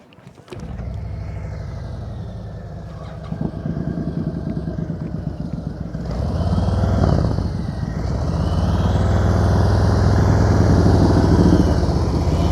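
A motorcycle engine runs continuously during slow-speed riding practice, starting abruptly and then rumbling close and loud, with the throttle swelling and the engine note rising partway through.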